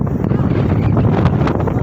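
Strong wind on a hill summit buffets the microphone in a continuous low roar, steady and loud throughout, with no clear voices.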